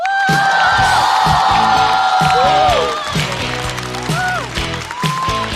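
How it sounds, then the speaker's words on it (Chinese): A stand-up comedian is welcomed onstage at a comedy competition with audience applause and cheers, a loud, dense crowd sound blended with upbeat stage music for the whole stretch. "掌声欢迎"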